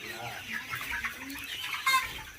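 Sonali hybrid chickens, about 45 days old, cluck and chatter in a poultry shed, a soft, close mix of overlapping bird calls with faint background voice.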